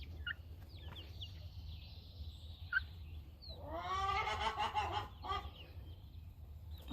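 Young Cochin chicks make soft peeping calls, then a louder burst of clucking and squawking in the middle, heard close over a steady low background hum.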